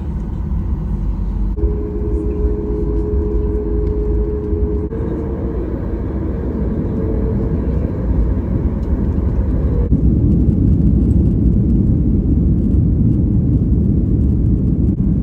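Airliner cabin during takeoff on a Vancouver to Toronto flight: a steady loud roar of jet engines and rumble, with a whining tone early on, swelling into a heavier, broader roar as thrust builds, with no talk.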